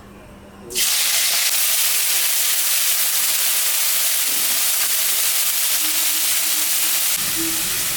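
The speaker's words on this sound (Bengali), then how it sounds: "চিংড়ি মাছটা এখন আমি ভাজবো।" Shrimp drop into hot oil in a heated wok and burst into a loud, continuous sizzle that holds steady after a sudden start.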